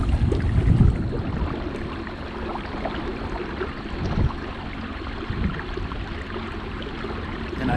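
A Newport electric trolling motor runs on a small boat at Millers Cove, giving a steady low hum with water wash and rumble around it and a few knocks, close and continuous with no talking.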